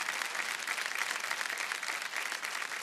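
An audience applauds on the Indian TV quiz show Kaun Banega Crorepati, a dense, even burst of clapping from many hands lasting a few seconds.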